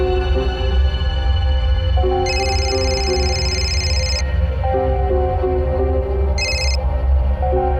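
A telephone rings on an outgoing call in a Hindi crime drama, with two bright electronic ring bursts, one long and one short, sounding over steady background music.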